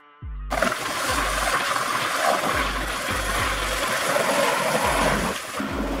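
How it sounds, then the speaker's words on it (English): A news helicopter starts up abruptly after a brief quiet moment, then holds a loud continuous engine and rotor drone with repeating low rotor pulses, close and unbroken, no speech. "News helicopter."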